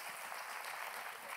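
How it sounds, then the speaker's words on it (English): Brief burst of applause from a small crowd, a steady patter of clapping hands at moderate distance. "Give him a round of applause."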